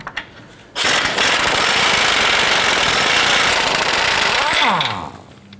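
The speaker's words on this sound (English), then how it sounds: "use our 19mm socket and remove these two bolts here holding our lower control arm bushing in place" An impact or power tool on a 19mm socket runs in one loud, continuous burst of several seconds, removing the lower control arm bushing bolts on a 2009-2015 Honda Pilot, then winds down, with no talk.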